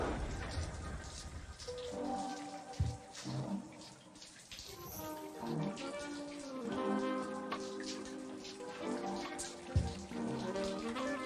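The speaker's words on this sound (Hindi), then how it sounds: "बाहर बहुत बारिश हो रही है" Heavy rain falling steadily outside, a continuous wash of drops that stays loud throughout, with tonal music-like sounds layered over it.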